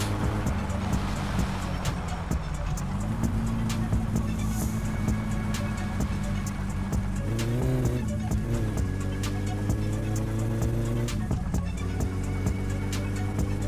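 Car engine in the video game My Summer Car while driving on a highway, a steady droning hum that rises in pitch through the gears with early shifts, continuous and moderately loud.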